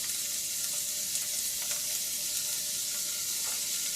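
Diced onions and minced garlic sizzle steadily in a hot pan for mushroom marsala, a bright continuous hiss with a few faint clicks, close and even with no talking.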